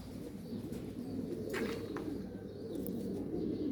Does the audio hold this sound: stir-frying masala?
no